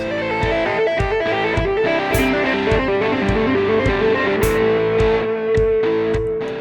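Distorted electric guitar plays a fast, repeating legato riff of rapid hammer-on notes in quick groups of five, loud and continuous with no talking.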